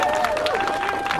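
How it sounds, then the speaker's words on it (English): Applause at a press conference on traffic congestion: a brief, dense burst of clapping from a crowd, close and loud, mixed with a voice over it. "First off, Tom Hucker deserves an extra round of applause."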